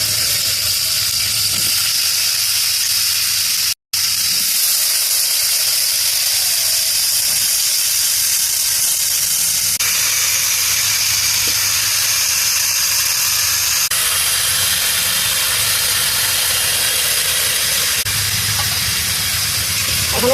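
Drumstick vegetable pieces tipped into a hot pan for a Bengali chorchori, giving a steady broadband sizzle and hiss that runs nearly unbroken for about twenty seconds with one brief dropout.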